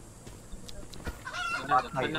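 Short, clipped chicken clucks from a video game in a quick irregular burst, slightly synthetic-sounding, over a low steady background with faint clicks.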